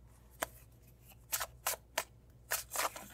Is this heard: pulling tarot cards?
yes